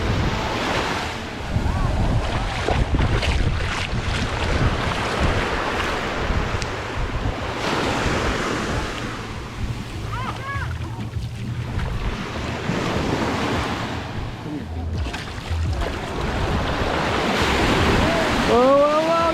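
Ocean surf rolls and surges onto the shore at Venice Beach, Florida, a continuous loud wash of breaking waves mixed with heavy wind buffeting the microphone.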